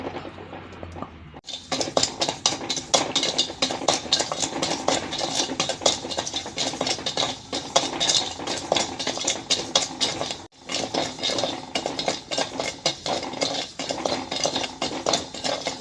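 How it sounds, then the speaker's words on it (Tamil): Foxtail millet is dry-roasted in a kadai on a stove, the grains rattling and scraping continuously under a stirring utensil, with busy metallic clinks close up for most of the stretch after a quiet start. "ஸ்டவ் பற்ற வச்சு கடாய் வச்சுட்டோங்க வறுத்துக்கலாம்"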